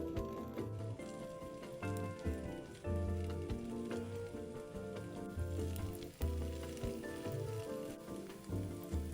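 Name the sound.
meat pie pan-frying in oil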